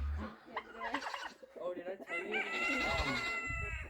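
Silkie and Wyandotte chickens clucking and calling nearby, with a rooster-like crow rising in the second half, busy and overlapping.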